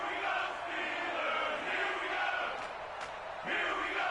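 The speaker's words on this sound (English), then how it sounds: "The crowd getting into it as we come up on a big 3rd down." Stadium crowd in a PS4 American football video game roars and cheers steadily, a dense wash of distant voices swelling in waves throughout, with no commentary heard.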